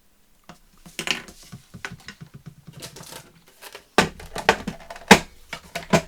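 A paper strip is trimmed for a craft tag, giving a series of short, crisp snips and cuts that start sparse and grow louder and denser toward the end, with no talk.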